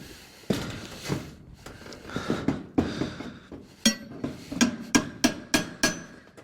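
Sharp metallic knocks and scrapes as a claw hammer pries nails from metal roofing, a dozen or so strikes growing more regular toward the end, close and clear with no talking.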